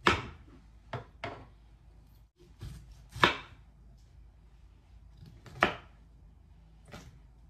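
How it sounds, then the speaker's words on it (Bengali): A knife chops through fresh garden broccoli on a board in sharp, separate thuds at an uneven pace, about eight cuts, close and clear with quiet pauses between. "আমি এই ব্রকলিটা কাটবো"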